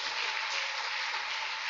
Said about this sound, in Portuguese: Irmão, você vai aplaudir, glorifica a Jesus.